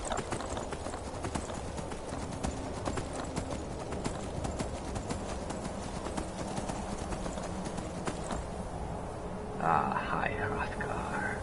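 Horse hooves clip-clopping in Skyrim, a steady rhythmic trot running through most of the stretch, with a low voice murmuring over it and a brief burst of other game sound near the end.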